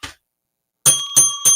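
A bell sound effect rings three times in quick succession after a short gap, bright and loud with no voices over it.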